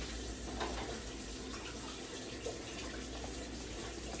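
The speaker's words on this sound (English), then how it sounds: "Let me pour this into a clear Tupperware bowl so that y'all can see how it looks." Spicy salmon marinade is poured from a container into a clear plastic Tupperware bowl, a soft continuous liquid splash and trickle, fairly quiet and alone.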